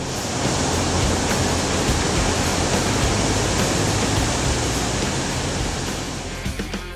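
Ocean surf breaking at Ribeira d'Ilhas, a right-hand point break with waves around 1.5 metres, heard as a loud, steady, broadband roar of rushing water that stays constant throughout with no voices.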